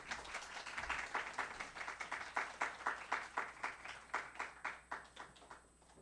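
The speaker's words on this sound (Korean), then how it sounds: "힘차게 박수로 환영해 주셨으면 감사하겠습니다" A church congregation at a retreat service claps to welcome a pastor, a rhythmic, fairly quiet burst of many hands that holds a steady beat for several seconds and then thins out.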